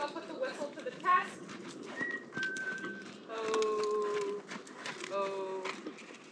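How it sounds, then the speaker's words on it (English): A few short, bright whistle tones sound in separate bursts, with other brief noises and some background talk in between, while working a horse on a circle. "So then sometimes I'll put the whistle to the test."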